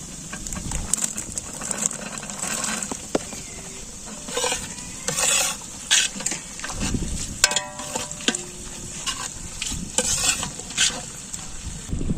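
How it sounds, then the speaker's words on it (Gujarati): Bell peppers tipped into a pan of cooking tuver totha in a village kitchen and stirred, giving continuous close scraping and sizzling with bursts of louder stirring and some clinking, no talking. "હવે આપણે નાખશું શિમલા મરચા."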